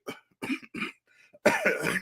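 A man sick with a lingering illness coughs three times in quick bursts, then clears his throat heavily at close range.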